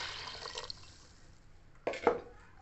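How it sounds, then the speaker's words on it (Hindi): Water, three glasses' worth, pours into a cooking pot of kabab mixture with cumin and salt, a quiet splashing trickle that fades and then returns in a brief louder gush near the end. "इसके साथ हम लोग 3 गिलास पानी के डाल देंगे"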